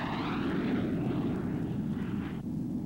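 A fast-flying compound aircraft passes overhead at an observation range, giving a loud, steady broadband engine roar that fills the whole stretch and shifts slightly in tone as it goes by.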